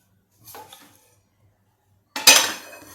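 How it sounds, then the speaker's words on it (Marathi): A metal lid set on a pan of stuffed ridge gourd vegetable curry: a faint clink, a quiet pause, then a louder clattering metallic clank up close that rings briefly, with no talking. "त्या भाजीवर मी आता हे झाकण ठेवणार आहे"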